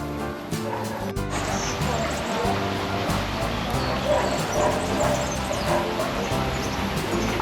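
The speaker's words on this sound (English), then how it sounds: "Dogs are still fighting" Dogs bark and yip while fighting in a park in Porto, Portugal, the scuffle continuing through the clip amid outdoor background noise and distant voices.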